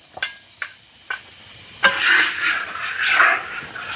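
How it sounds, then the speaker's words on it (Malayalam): Cashews and raisins fry in ghee in a village kitchen for jackfruit halwa, a soft crackling sizzle with a few sharp clicks of a utensil against the pan, then steady stirring and frying noise. "അണ്ടിപ്പരിപ്പും ഉണക്കമുന്തിരിയും നെയ്യില് മൂപ്പിച്ചിട്ട് ഇടാണ്"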